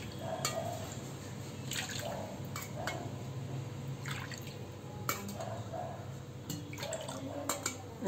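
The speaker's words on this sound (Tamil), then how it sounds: "கட்டி தயிர் அதில் 5 மடங்கு தண்ணி ஊற்றிக்கிறேன்." Water being poured into a bowl of thick curd while making South Indian mor kali, a steady liquid trickle and splashing with small drips, close and continuous under a faint background hiss.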